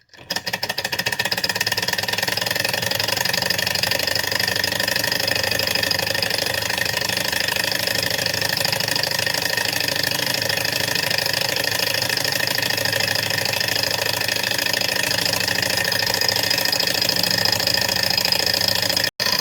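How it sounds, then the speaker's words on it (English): A small Stirling engine running steadily with a fast, even mechanical chatter, loud and close throughout, with no voices. "Using a Stirling engine to charge your cell phone."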